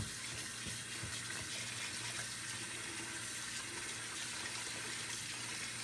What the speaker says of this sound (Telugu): ఈ బియ్యం కడిగేటప్పుడు అట్లా వైట్గా నీళ్ళు వస్తున్నాయి కదా